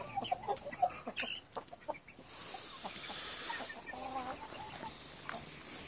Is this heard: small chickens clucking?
yes